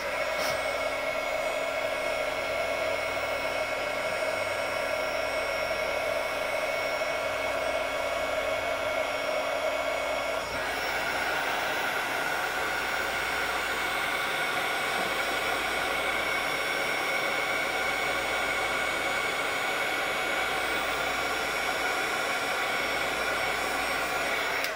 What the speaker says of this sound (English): I'll heat up my gun for a second and then I will melt this